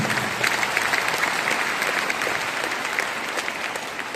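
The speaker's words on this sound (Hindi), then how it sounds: "और एक जबरदस्त ताली होनी चाहिए" Audience at a motivational training event in Patna breaking into loud, dense applause, a continuous close roar of many hands clapping that holds steady from start to finish.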